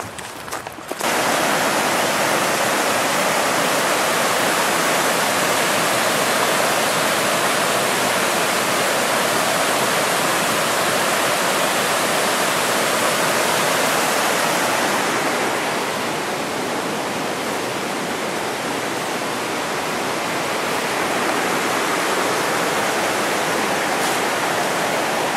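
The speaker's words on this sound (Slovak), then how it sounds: "Nádherný potôčik, nádherný. A pozrite, aký je čistý." Steady, dense rush of a small, clear forest stream flowing over its bed, close and continuous with little variation, heard outdoors during a bushcraft outing with no talk.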